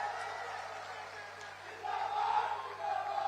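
A crowd at a 2022 Uttar Pradesh election rally in Amethi applauds and cheers in a continuous, dense wash of sound that swells louder partway through.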